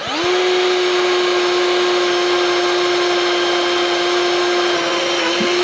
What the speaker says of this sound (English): Just got to hold the drill nice and straight